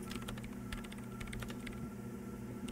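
Keyboard typing in the video game Disco Elysium, a quick run of light, irregular key clicks over a low steady hum, close and moderately quiet.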